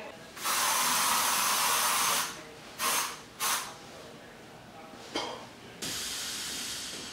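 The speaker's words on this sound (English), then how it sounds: "Here's the Old Spice Refresh All Day Swagger scent. Once again, it's an aerosol." Old Spice Refresh All Day Swagger aerosol deodorant, alcohol denat. based, sprayed in several bursts: a long loud hiss, two short puffs, a brief spurt, then another sustained hiss, close to the microphone with no talking.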